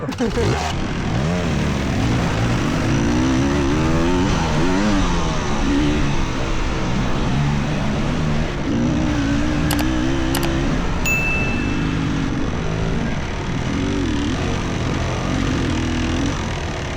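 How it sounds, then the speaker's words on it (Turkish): A motocross bike engine drones and revs in rising and falling swells, loud and close throughout, while people talk and laugh over it. "Abi bir kenara gaz vereyim mi abi?"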